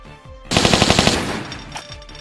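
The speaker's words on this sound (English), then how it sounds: "It's a very deadly gun and can kill most enemies in very few shots" Rapid burst of revolver gunshots in the Tomb Raider video game, a run of sharp, evenly spaced shots fired close and loud, followed by a decaying tail of ringing and debris.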